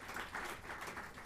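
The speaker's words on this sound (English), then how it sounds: "Can we applaud her?" Audience at an entrepreneurship summit claps in steady, fairly faint applause, a short even patter of many hands.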